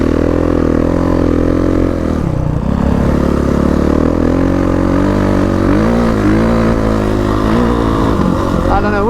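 A dirt bike engine runs loud and close throughout the ride, holding a steady drone with a few small shifts in pitch as the throttle changes, and no talk over it.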